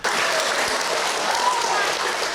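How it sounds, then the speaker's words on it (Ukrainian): Stormy applause in a school assembly hall, a loud, sustained wash of many hands clapping at once from a sizeable gathering. "Директора школи зустріли бурхливими оплесками."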